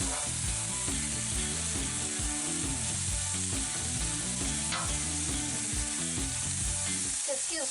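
Garlic butter sizzles on a cooking tri tip, a steady close frying hiss that carries throughout, with faint scraping of a utensil and no talking.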